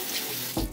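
A razor rinsed under a running tap during a wet shave, a close, steady rush of flowing water that turns into a brief louder splash near the end.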